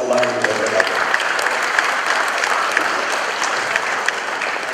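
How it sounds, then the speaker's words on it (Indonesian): An audience at a big data conference in Indonesia claps steadily, a dense, sustained wash of applause filling the hall, fairly close, with no break. "berikan tepuk tangan sekali lagi kepada Bapak Kalamullah Ramli."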